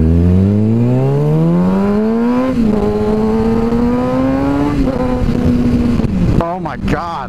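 Sport motorcycle accelerating hard, its engine whine climbing steeply through the gears with brief dips at each shift, loud and close, then a rider's voice breaking in at the end.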